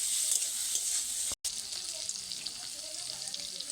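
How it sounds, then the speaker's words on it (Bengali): Steady oil sizzling as ginger and garlic fry, with faint stirring scrapes, continuous and close, broken by one brief dropout. "আবার দুই থেকে তিন মিনিট মতো ভেজে নেব"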